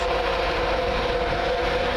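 A Virgin Trains East Coast passenger service from London King's Cross to Leeds rumbles past at Doncaster station, a steady loud roar with low wheel noise throughout.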